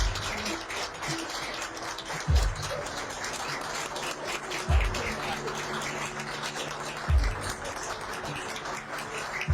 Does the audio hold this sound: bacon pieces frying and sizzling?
no